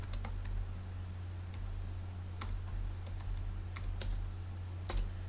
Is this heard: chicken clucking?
no